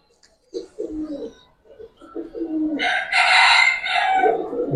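Ring-eyed pigeons coo in a loft, several soft low throaty coos close by, followed by a brighter, louder fluttery burst from the birds.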